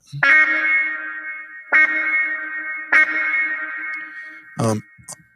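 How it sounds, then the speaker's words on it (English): Synth notes struck three times through an analog delay and very wet reverb, each ringing out with long echoing repeats and a washy reverb tail, followed by a short warbling sweep. "an analog delay. And also their built-in reverb, which is super wet."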